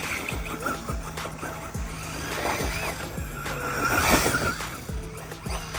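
A Traxxas Mini Maxx RC truck on a 4S battery drives at a park with jumps. Its motor whines loudly and rises in pitch through repeated bursts of acceleration, with tires scrabbling and skidding throughout.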